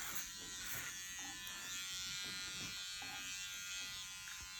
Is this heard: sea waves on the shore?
no